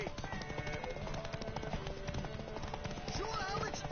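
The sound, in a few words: horse galloping hooves in the video game Witcher 3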